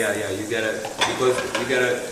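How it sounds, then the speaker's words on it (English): A continuous sizzle of eggs and chips frying in a hot pan for chips mayai, with occasional stirring and clinks of utensils against the pan. "the eggs gotta get fried as soon as possible."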